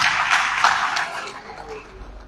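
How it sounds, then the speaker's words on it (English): Audience applause at an academic lecture event in Nigeria, a dense wash of clapping that starts full and gradually tapers off over a couple of seconds. "A round of applause once again,"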